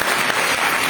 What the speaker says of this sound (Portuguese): As palmas louvam o nome de Deus